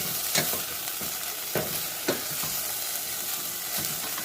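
Vegetables for katsu curry sautéing in a hot pan, a steady close sizzle broken by a few sharp clicks and scrapes of stirring.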